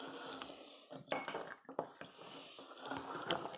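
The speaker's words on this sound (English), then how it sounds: "Eli, do you want to start stirring the basaltic lava, the one with 1 scoop?" A utensil scrapes and clinks against a container while a basaltic model lava mixture is stirred in a lab, with irregular close taps and a few sharper clinks.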